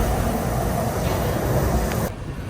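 A metro train rumbles loudly and steadily inside a Chinese subway during a transfer, a continuous rolling roar that cuts off abruptly near the end.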